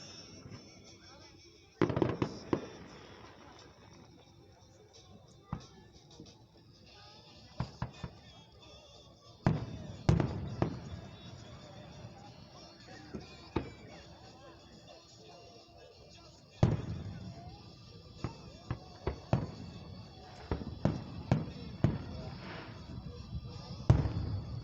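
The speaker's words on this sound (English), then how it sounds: "Sometimes when they shoot all the fireworks in the sky all together, that's called the grand finale." Fourth of July fireworks show grand finale in Van Wert, Ohio: repeated booming bursts and crackling reports at irregular intervals, some clustered, heard from a distance over faint crowd murmur.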